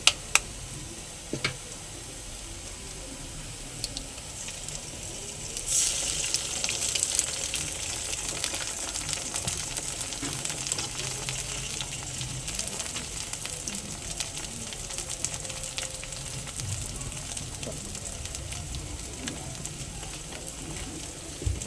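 A cracked egg poured into a hot pan over low flame produces a soft, steady sizzle that swells after a few seconds, dotted with faint ticks and pops and no talking.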